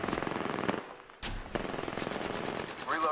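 Rapid automatic gunfire in the video game Apex Legends, bursts of close shots with a short pause partway through.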